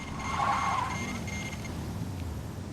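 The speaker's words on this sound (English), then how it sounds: "What's that beeping sound?" In the Saints Row 2 video game, the Rampage vehicle gives off a steady electronic beeping tone over a continuous engine drone.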